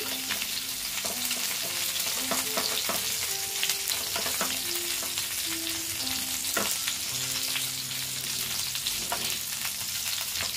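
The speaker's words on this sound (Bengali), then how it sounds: "এগুলো পুরো বেগুন ভাজার মতনই ভাজতে হবে" Eggplant pieces sizzle steadily in hot oil in a pan, a continuous close frying crackle punctuated by intermittent scraping and clinks from stirring.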